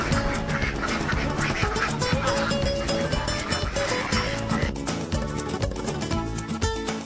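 A dense, continuous chorus of many ducks quacks on an intensive egg-laying duck farm in Aceh. The sound stays loud and steady throughout, with no speech.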